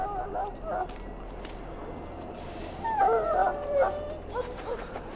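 Dog whimpering and whining in the fantasy role-playing game Dragon Age: Origins, rising plaintive whines over a steady low game ambience, with faint speech and other game sounds around them.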